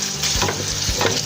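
A wooden spatula stirs pumpkin curry frying in a pot, making rhythmic scraping strokes, close and fairly loud, over a continuous sizzle with no talk.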